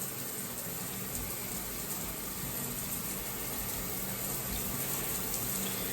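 Warm tap water runs steadily from a faucet while hair is being rinsed out, a continuous close hiss and splash with no talking.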